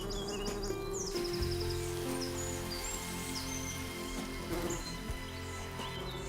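A honeybee scout flies about outdoors, its steady buzzing drone continuous and fairly close, with faint bird calls in the background.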